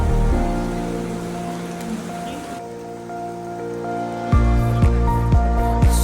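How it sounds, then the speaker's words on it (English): Heavy rain pours down at a train station in Mumbai, a steady loud hiss of falling water with some low rumbling and a few sharp thumps in the final seconds. "it was raining very badly that day"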